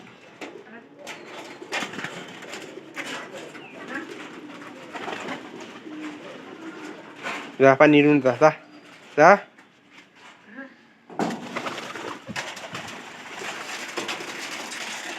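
Pigeons coo and shuffle near a water dish while someone talks over them, urging the bird toward the water; a brief burst of louder flapping and clatter sounds in the middle.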